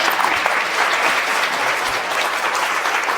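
Dense, steady applause from an audience at a live in-person talk with Deepak Chopra, loud and continuous throughout without a break.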